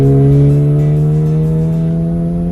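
A modified 2019 Honda Civic Sport engine revs hard and loud up close, a strong steady tonal roar whose pitch climbs slowly across the clip, with no talking.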